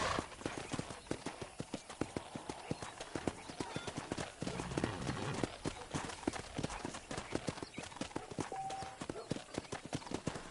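Steady, rhythmic hoof clops of a horse at a walking pace in the video game Red Dead Redemption, with a brief whinny, over a continuous background of ambient noise.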